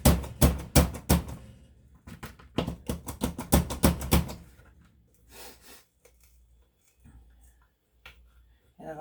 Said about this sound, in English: I am going to use my Cuisinart chopper to chop my onions